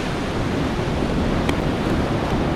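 Waves wash onto a seaside shore in a steady, loud, broadband roar with wind buffeting the microphone, continuous throughout with no voices.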